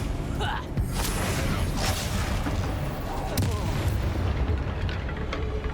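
Spell combat in the Hogwarts Legacy video game, with dense, continuous booming blasts and gunfire-like impacts layered under a busy battle soundscape, loud throughout, while a voice speaks over the action.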